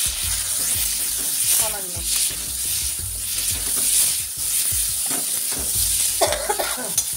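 Ground Kashmiri chilli, coriander and cumin powders with a slit green chilli sautéing in hot oil, a steady close sizzle with stirring scrapes throughout and a brief spoken word.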